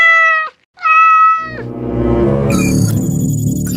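A cat meows twice in clear, loud, tonal calls, followed by louder overlapping music-like tones and noise.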